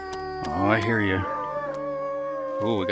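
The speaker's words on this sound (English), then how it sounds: "Oh, we got a couple wolves." Wolves howl in the survival video game The Long Dark, with long, wavering, overlapping howls and a sustained tone that lingers. A fresh howl rises near the end.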